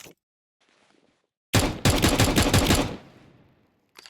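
A Counter-Strike 2 counter-terrorist pistol fired with its silencer removed: a rapid burst of loud, sharp shots lasting about a second, then a short ringing decay, set against near silence with faint handling noise.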